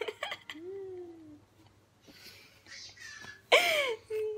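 A small bird gives thin, wheezy whistles and squawks, with a louder, harsh screech near the end, heard close in a quiet room.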